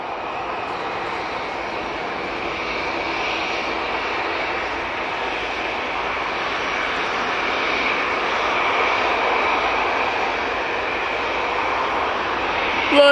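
An Airbus A330 air tanker at Manchester Airport roars with a loud, sustained engine drone that holds steady and swells slightly toward the end.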